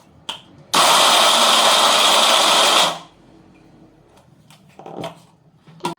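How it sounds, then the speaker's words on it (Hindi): A mixer grinder whirs loudly in one steady burst of about two seconds while grinding dates and dry fruits for laddu, then stops, with faint kitchen clatter afterward. "दिखाती हूँ कितना सा ग्राइंड करना है, बस 1 या 2 बार चलाना है हमें इसको"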